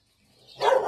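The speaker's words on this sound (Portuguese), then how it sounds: "Aí o cachorro já estranhou." A dog gives a single sharp bark close by on a rural plot where potted pitaya plants grow, rising abruptly from near silence.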